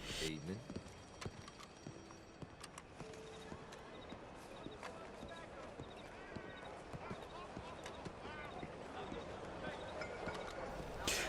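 Horse hooves clip-clop on old, misty city streets in Red Dead Redemption 2, a steady close rhythm of hoofbeats over background ambience, with someone talking over it.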